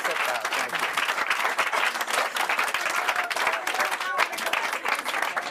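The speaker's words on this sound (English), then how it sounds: "Give her a round of applause." Audience applause after a hypnosis stage demonstration: dense, steady clapping from a crowd, loud and sustained throughout, with faint voices mixed in.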